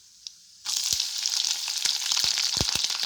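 Green chilies go into hot oil with mustard seeds for a Karnataka-style mango rice tempering. After a near-silent start, a sudden loud sizzle breaks out, with sharp crackles and pops continuing under the steady frying.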